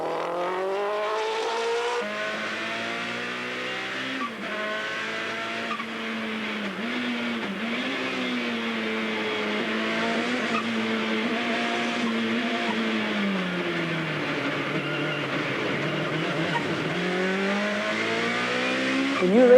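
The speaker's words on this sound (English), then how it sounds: "The car was noisy inside because, of course, no baffling and that enormous amount of turbocharged sound being thrown from one bare wall to the other" Turbocharged race car heard from inside the cabin while driving on a racetrack, no sound baffling, a loud continuous engine roar with shifting pitch that bounces off bare walls, steady throughout without talk.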